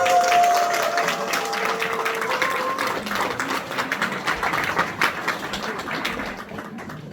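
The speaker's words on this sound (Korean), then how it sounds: "트리플 다이아몬드를 큰 박수로 모시겠습니다." An audience at a Korean health talk on nutrition and aging breaks into sustained applause for a speaker being welcomed to the stage, a dense steady clatter of many hands that tapers slightly near the end.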